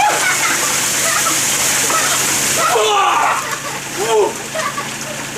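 A bucket of ice water is dumped outdoors during an Ice Bucket Challenge at a lawn-mowing job, giving a loud continuous splashing rush, with people's voices and shouts on top as it ends.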